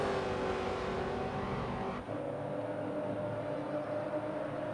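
NASCAR Truck Series race trucks at Watkins Glen, a loud continuous roar of engines with a passing truck and a sudden drop in pitch midway, steady and close throughout.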